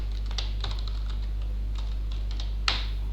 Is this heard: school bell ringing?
no